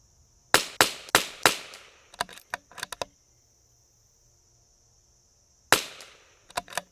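Rifle shots from a CZ 457 rimfire rifle fitted with a Whidden Gunworks Criterion prefit barrel, fired with match ammunition at a range: a fast string of four sharp cracks, then a few lighter clicks of bolt work, and one more shot after a pause.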